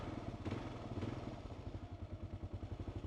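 A 2024 Kawasaki KLR 650 single-cylinder motorcycle engine runs up close, a steady low throb with a pulsing beat and a couple of brief clatters early on, with no voices.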